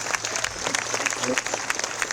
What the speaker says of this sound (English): how about a round of applause for everybody?